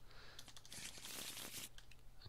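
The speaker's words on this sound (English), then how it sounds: "Let's give that some more shuffles." Playing cards shuffled during an Arkham Horror card game, a quiet close riffle with crisp papery flutter and crinkle bursting through the middle, no talking.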